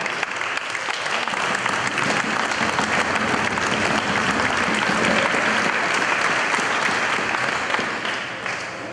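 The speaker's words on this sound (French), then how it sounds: "je pense qu'on peut tous s'applaudir parce que je pense que c'est assez formidable" A large audience of about 500 applauds at the closing of the 2014 Baie-Saint-Paul art symposium. The clapping is dense and sustained, loud and steady from start to finish with no voices over it.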